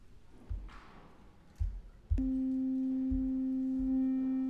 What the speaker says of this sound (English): if I want to make a sine wave and put it to my sound card